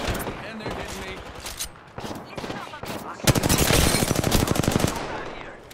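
Rapid gunfire in the Apex Legends video game, loud bursts of shots in quick succession, with a dense stretch of fire in the second half and short pauses between volleys.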